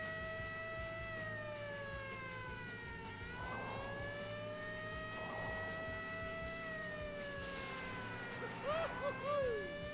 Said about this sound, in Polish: Włączaj te syreny.